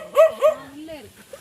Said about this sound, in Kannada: ನಾಯಿ ತುಲೆ